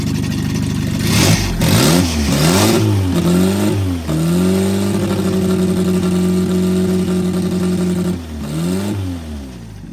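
A running-rich 1200cc engine revs up and down a few times, then settles into a steady, loud idle, with a couple more blips near the end.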